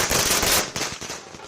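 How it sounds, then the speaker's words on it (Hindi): Firecrackers burst at an election victory celebration for the BJP, a dense, loud crackling barrage for about half a second, then scattered sharp pops trailing off. "कहीं जीत की आतिशबाजी हो रही है"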